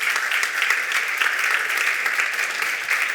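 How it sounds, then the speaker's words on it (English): An audience at a climate tech startup showcase applauds steadily for about three seconds, a dense, even patter of many hands with no talk over it. "let's give a warm round of applause again for all the"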